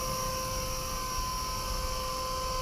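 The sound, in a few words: Blade SRX200 RC helicopter hovering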